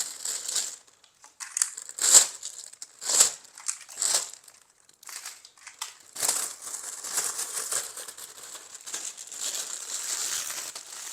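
Plastic covers crinkle and crumple in sharp bursts close by as toiletries such as toothpaste and brushes are packed for a trip, with quieter rustling in between.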